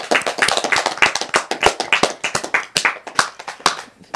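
Children clap for a girl named Srinika in a group session, a busy, uneven patter of sharp hand claps up close that keeps going for several seconds without any talking.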